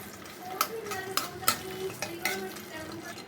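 Cinnamon stick, three cardamom pods and a bay leaf fry in a quarter cup of mustard oil, giving a steady low sizzle broken by sharp scraping stirs and the clink of a spoon against the pan, all close by.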